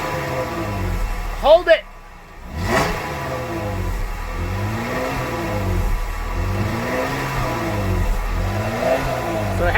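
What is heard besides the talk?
2016 Jeep Wrangler Rubicon engine revving, stock exhaust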